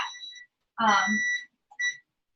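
A kitchen-style timer alarm beeps in short, bright electronic bursts, with a longer burst in the middle and a brief one near the end, heard between pauses with a voice partly overlapping.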